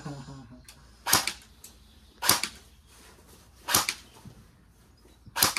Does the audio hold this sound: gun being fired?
yes